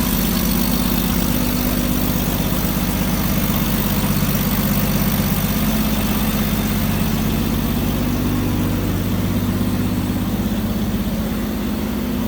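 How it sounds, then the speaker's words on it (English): A 1946 Packard Clipper Six touring sedan idles on its 245 cubic inch L-head inline six, a smooth, even, continuous low rumble heard up close with no voices. "That L head. Inline 6 with 245 cubic inches on it. Pretty smooth running."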